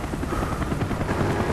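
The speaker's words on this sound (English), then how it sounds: "Our spy plane's in the air." A spy plane in the Call of Duty Black Ops shooter flies overhead with a loud, steady, rumbling engine drone that fills the brief moment and covers every other sound.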